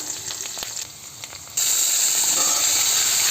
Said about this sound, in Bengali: আলুগুলো হাফ ভাজা হয়ে গেছে এবার এর মধ্যে ভেন্ডিগুলো দিয়ে দেবো